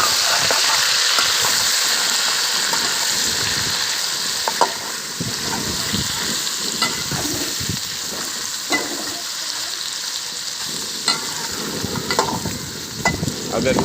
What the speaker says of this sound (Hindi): अभी इसमें गोश्त ऐड करेंगे। गोश्त ऐड करने के बाद इसकी अच्छे से भुनाई करनी है।